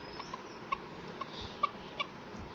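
A chicken in a video game clucks in a series of short, sharp, faint clucks at irregular intervals over quiet background sound.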